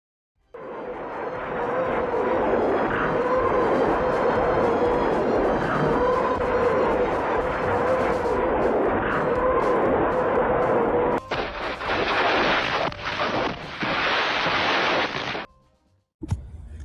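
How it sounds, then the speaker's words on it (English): Katyusha M13 rockets fire in a long continuous roaring whoosh that fills the air, loud and sustained, shifting in tone partway through before cutting off abruptly near the end. "The rockets from the Katyushas would produce a loud whooshy sound when fired"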